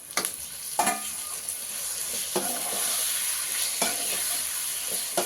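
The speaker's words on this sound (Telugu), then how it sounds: "ఇప్పుడు ఈ టమాటా కూడా ఒక రెండు నిమిషాలు వేగనెట్టమండి" Tomatoes frying in a pan with ginger and curry leaves, a steady bright sizzle with a few stirring scrapes, close and continuous, no voices.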